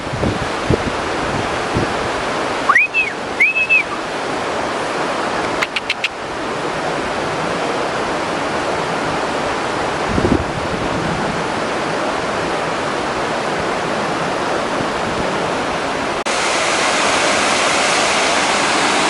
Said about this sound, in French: Parce que ça fait une belle cascade de canyon ça, à descendre.